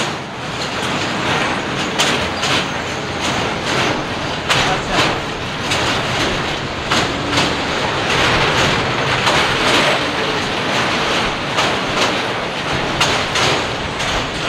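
A train crosses a bridge over the Teesta river, heard from on board as a loud, continuous rumble with regular clattering wheel beats running throughout, and no voices.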